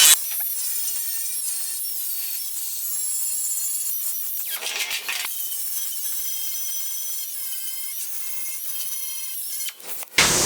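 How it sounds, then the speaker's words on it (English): A power grinder cuts welds off the inside edge of a rusty car fender patch panel, a harsh high-pitched metallic whine running steadily with brief dips and surges in load. "Grind these welds off on this inside edge."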